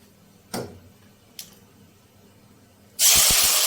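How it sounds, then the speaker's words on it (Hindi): Onions hit hot oil in a pan for kofta and burst into a loud, steady sizzle near the end, after two faint taps earlier in a quiet kitchen. "तो अब हम इसमें जो प्याज है वो फ्राई करेंगे।"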